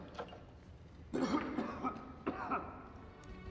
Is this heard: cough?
yes